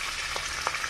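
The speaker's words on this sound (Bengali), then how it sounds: "ফোড়নে দিলাম তেজপাতা" Bay leaf dropped into hot oil to temper a dish, giving a steady, close sizzle of frying with a couple of brief crackling pops.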